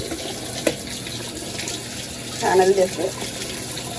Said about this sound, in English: run the cold water over it